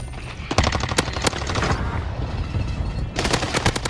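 Rapid bursts of video game gunfire crackle in close, loud volleys with brief gaps between them, then a fresh barrage near the end.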